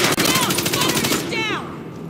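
Fast automatic gunfire rattles in the video game Warface, a rapid burst of shots that stops abruptly, followed by a short descending electronic whine.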